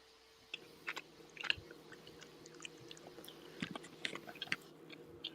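Someone chews a peanut butter cookie close up, and the bites come as a run of soft, crunchy, irregular chews with no talking.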